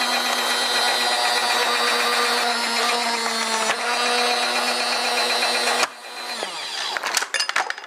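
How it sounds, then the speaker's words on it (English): Black & Decker Lids Off JW275 automatic jar opener runs with a loud, steady motor whine on a sealed jar, then stops abruptly near the end, leaving scattered clicks and clattering handling noises. "We'll put it in the Black & Decker, lids off, down, and let's see what happens."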